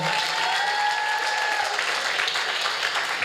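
Church congregation applauding and cheering for the Lord, a steady dense wash of clapping with crowd voices throughout, no break in the sound.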